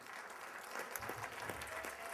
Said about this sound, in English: You guys don't have to clap after each one of these.